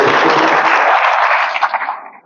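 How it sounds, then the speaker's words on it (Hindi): An audience claps together at a spiritual talk, a dense burst of applause that starts loud, holds steady and then tapers away near the end. "ताली तो बजाइए एक बार,"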